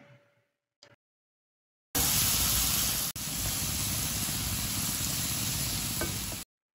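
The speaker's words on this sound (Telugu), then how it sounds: "ఇప్పుడు మనం మీడియం టు లో ఫ్లేమ్లో పెట్టి ఇది ఒక లైట్ బ్రౌన్ కలర్ వచ్చే వరకు మనం ఫ్రై చేద్దాం" Apples with cinnamon powder fry over a medium-low flame, giving a loud, continuous, close sizzle that follows a few brief faint knocks and then cuts off.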